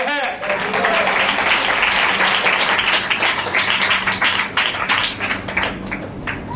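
A church congregation bursts into sustained clapping, dense and steady for several seconds and then thinning toward the end, with voices mixed in underneath.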